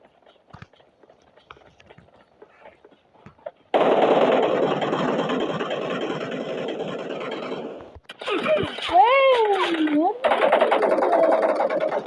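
Rapid automatic gunfire bursts in the mobile shooter game PUBG Mobile, loud and continuous after a quieter start, with brief sharp whooshing effects near the end and faint voices underneath.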